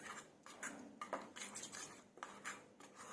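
Chicken leg pieces being mixed with tandoori marinade in a bowl, with a spoon clinking and scraping against the dish in an uneven rhythm, close but quiet, no talk.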